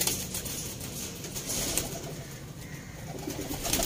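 Soft Ferozpuri pigeon cooing in low repeated murmurs over a steady background hum, with no one speaking.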